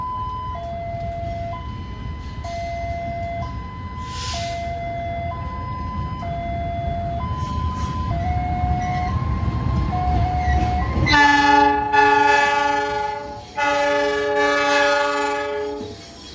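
Locomotive shunting on an Indonesian railway, with a low rumbling engine and steady tonal horn or warning notes. A louder, layered horn blast starts partway through and continues with a brief break.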